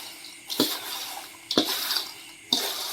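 Drinking water poured into a dish while making Thai crab paste (pla ra ka pu), heard as three short splashy pours about a second apart, close by and moderately loud, with no talk.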